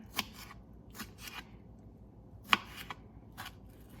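A knife chops plums on a cutting board for honey plum jam, giving sparse, uneven crisp thuds spread across a quiet kitchen.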